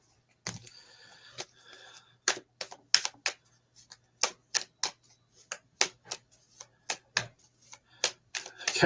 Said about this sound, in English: Cards, I just shuffle them